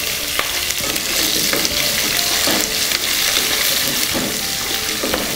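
Pork fries with shallots and coconut pieces in a pan, a loud close sizzle broken by repeated scraping and clattering strokes of a spoon stirring the mixture, with no talking.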